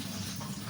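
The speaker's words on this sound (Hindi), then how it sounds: "इसको ऐसे दबा करके हमें निकालना है पानी, अच्छे से पानी निकाल लें" Soaked, grated bitter gourd squeezed firmly by hand, wringing water out in a steady close trickle and drip that runs throughout with no talk.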